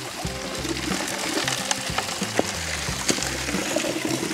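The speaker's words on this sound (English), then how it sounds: "now I'm just running it through the little Angus McKirk sluice" Water runs through a small Angus McKirk gold sluice at modest flow, a steady close gurgle and splash with occasional small knocks and pebble clicks throughout.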